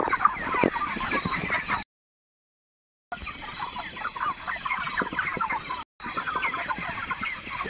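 Broiler chickens on a poultry farm, forty-two days old, fill the air with dense overlapping clucks and chatter, steady and close, interrupted by two short silent gaps.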